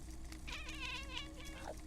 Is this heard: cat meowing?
yes